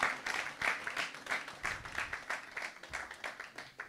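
A church congregation at a Sunday worship service claps and applauds the Lord, steady rhythmic clapping from many hands filling the room, loud and continuous with little talk.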